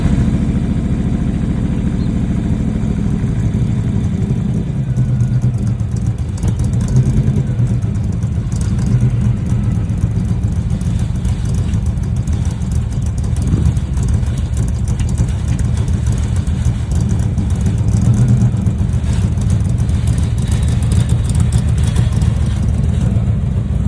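A modern Ford Mustang engine runs steadily at a car meet, a continuous loud, deep rumble that holds throughout with small surges rather than sharp revs, with a faint voice in the background.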